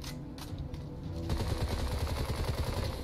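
Rapid automatic gunfire from a first-person shooter, Bright Memory, during a boss fight, bursting in after a quieter moment and continuing as a loud, dense rattle of shots with no talk over it.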